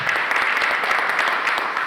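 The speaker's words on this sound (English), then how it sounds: "So I'm glad to hear you clap because we're very happy about this" An audience at an annual meeting claps loudly and steadily, a dense wash of many hands throughout the short stretch with no talking over it.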